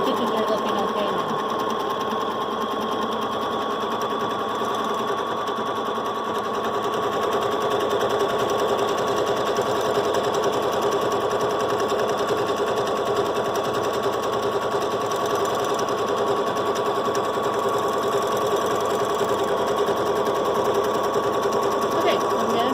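Sewing machine stitching a quilt on a Grace Cutie quilting frame, a steady close mechanical whirr that runs unbroken throughout with only slight changes in speed.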